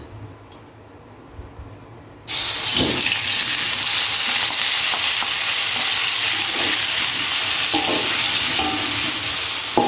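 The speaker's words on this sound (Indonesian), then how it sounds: "Jadi ati ampelanya aku tumis aja sebentar." Chicken liver and gizzard sautéing in a pan, starting with a loud, steady sizzle after a brief quiet moment and carrying on with occasional stirring scrapes and clinks.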